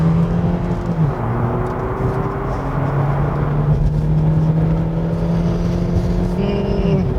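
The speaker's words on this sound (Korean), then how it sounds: "RPM이 올라가면서 차체를 밀어주는 엔진의 힘에 대해서는 충분히 칭찬을 할 만하다고 생각이 됩니다" A Hyundai Ioniq Hybrid with a 1.6-litre Kappa engine revving as the car accelerates in sport mode, heard from inside the cabin as a steady droning hum with rising engine tones, loud and continuous.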